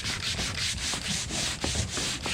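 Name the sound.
sander sanding boat hull paint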